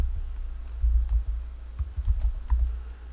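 Computer keyboard typing while entering a list of meals into an Excel spreadsheet: irregular bursts of close, soft key clicks with short pauses, alone without speech.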